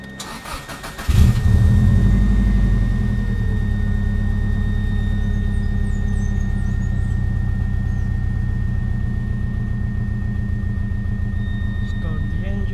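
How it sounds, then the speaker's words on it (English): A Subaru WRX with a replacement ECU cranks briefly and fires up, then settles into a steady, close, low idle rumble with a faint high whine; a voice is briefly heard near the start. "Start the engine."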